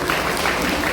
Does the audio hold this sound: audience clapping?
yes